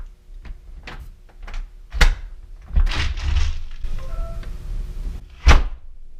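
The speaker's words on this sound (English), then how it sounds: "All right, so we'll open the door." A series of thunks and knocks, then a door opening with a scraping, creaking movement and a final solid thud; no voices.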